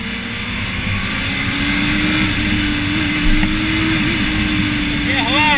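Honda Hornet motorcycle engine while riding on the road, a steady droning hum with a constant pitch under wind noise and a small rise near the end, with people talking over it.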